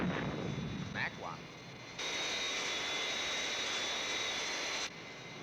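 Jet aircraft roaring through takeoff and climb in a Thunderbirds episode, a sustained loud engine rush that holds steady and cuts off sharply, with brief electronic chirps at the start.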